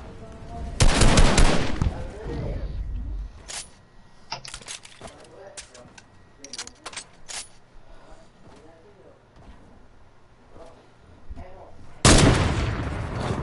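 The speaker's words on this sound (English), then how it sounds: "Why did I shoot?" Video game gunfire in a duos match: loud broadband bursts near the start and again near the end, with scattered sharp shots between, under a quiet background with occasional talk.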